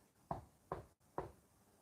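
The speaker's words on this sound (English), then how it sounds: "Then the man slowly walked towards the house. Three knocks." Three knocks on a door, evenly spaced and sharp, each a solid thud with a short ring, moderately loud against quiet background with no voices.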